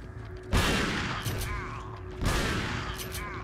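Gunfire in the video game Resident Evil 4: two loud, close shots about two seconds apart, each with a sharp blast and a long decaying tail, over quiet game ambience.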